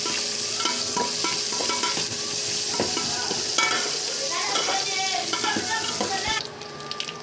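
Onions sautéing in a pan for meal maker gravy give a steady close sizzle with scattered stirring scrapes and clinks, and the sound thins out abruptly near the end. No one speaks.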